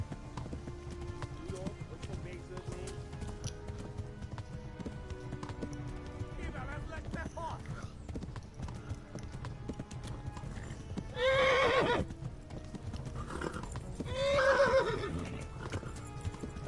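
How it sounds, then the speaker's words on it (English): Rhythmic hoofbeats of a galloping horse in Kingdom Come: Deliverance run steadily throughout, with two loud whinnies breaking in near the end, over a faint game-style background. "our horse can get tired, so we're gonna have to let it canter instead of galloping"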